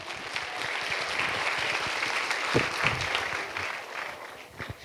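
An audience at a data science conference session gives sustained applause, a thick, even rattle of many hands from a room of listeners, moderately distant and without talk.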